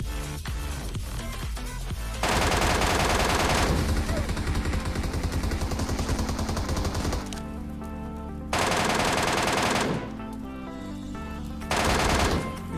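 Dense, loud gunfire from a PUBG Mobile match: sustained automatic bursts with brief pauses, close and continuous, over a steady game soundscape with no talk.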